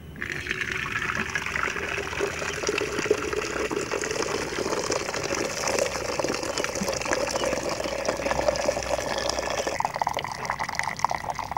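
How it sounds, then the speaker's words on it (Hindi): Water from boiled turnips is poured off in the kitchen, a steady close splashing gush with dripping that runs without a break, then eases slightly near the end. "अब हम शलजम का पानी निकाल लेंगे।"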